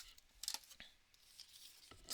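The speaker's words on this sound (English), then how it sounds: "This paper, I'm going to cut it down some" Scissors cut paper for a craft project, giving a few soft, close snips and rustles at low volume.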